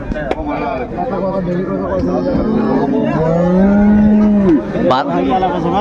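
A dairy cow moos loudly, a long low drawn-out call, over a crowd of people talking and bargaining nearby at the Raniganj cattle market in Dinajpur.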